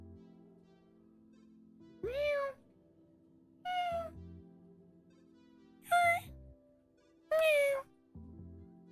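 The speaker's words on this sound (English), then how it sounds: "Cat's making noise." A cat meows four times, loud and close, each call drawn out and spaced a second or two apart against a quiet room with a faint steady hum.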